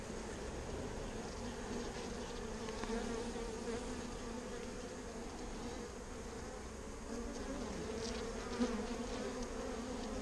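Dense, steady buzz of a honeybee colony during an open hive inspection in Texas while the honey flow is on, a continuous close drone lasting throughout with no talk.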